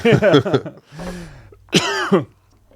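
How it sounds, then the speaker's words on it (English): A few harsh asthmatic coughs break out, then a breathy clearing sound and another burst of coughing, close and fairly loud, with brief talk at the start. "I cough like 7 times every podcast."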